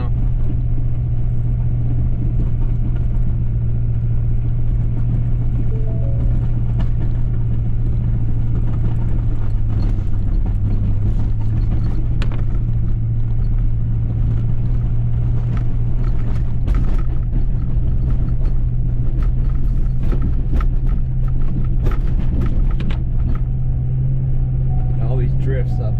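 A Ford Super Duty truck on Firestone Destination XT tires pushes through deep snow drifts on a hill, giving a steady low engine rumble and drone that is loud and continuous for the whole stretch.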